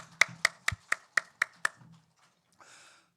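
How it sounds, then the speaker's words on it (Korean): Church congregation clapping hands in rhythm, seven sharp evenly spaced claps in a quick run, then silence and a faint rustle. "힘차게 박수하십시오."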